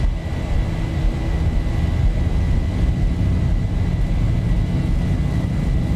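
A Boeing 737-800 jet engine at takeoff power in the X-Plane 11 flight simulator, a loud, steady, broadband roar holding constant throughout with no voices.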